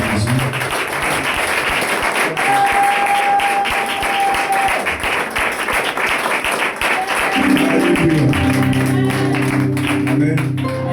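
A church congregation applauds and cheers for Jesus in a continuous wash of clapping. Sustained musical tones from the worship band rise underneath, and a deeper instrumental chord swells in near the end.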